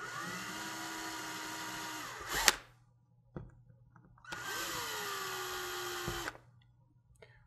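A power drill backing a toggle bolt screw out of a wall, two steady whirring runs a few seconds each that wind down at the end, separated by a quiet pause with small clicks, close and clear.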